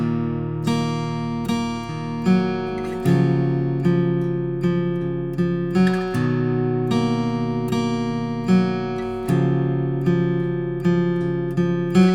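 Acoustic guitar playing a song's intro, a repeating picked chord pattern with ringing, overlapping notes in an even rhythm, close and clear, with no talk.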